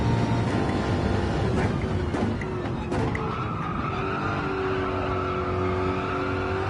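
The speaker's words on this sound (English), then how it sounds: "You can hear the wheel squealing." Loud, continuous tire squeal and engine roar from a racing car in a video game, with the squeal wavering in pitch as the car slides through a turn.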